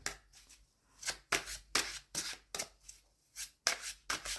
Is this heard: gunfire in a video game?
no